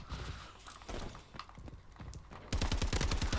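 A rapid automatic gunfire spray in Call of Duty: Advanced Warfare multiplayer bursts in loud and dense for the last second, after scattered quieter shots and footsteps.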